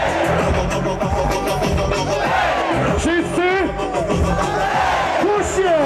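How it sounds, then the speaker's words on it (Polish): A huge stadium crowd of Polish fans at a celebratory ski-jumping send-off event claps and chants together, loud and dense, with voices rising and falling in sung chants over continuous rhythmic clapping. "I klaszczemy."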